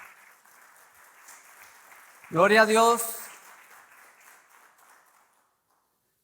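A church congregation claps together briefly after a voice exclaims, the applause swelling for a couple of seconds over a sustained background murmur, then fading away.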